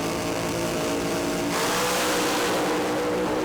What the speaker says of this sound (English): Now they start to boost those revs up